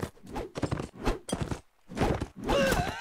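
Horse hooves clop with a short whinny and grunts from a mount in Mount & Blade Warband, coming in several close bursts with brief gaps between them.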